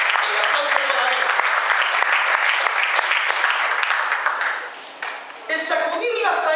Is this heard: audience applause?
yes